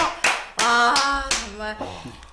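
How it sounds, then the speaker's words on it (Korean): A few sharp hand claps ring out in a Korean job-seeking lecture broadcast on cover letters and interviews, mixed with voiced laughter or exclamations, close and fairly loud in short bursts. "이거는 박수 한번 쳐주죠."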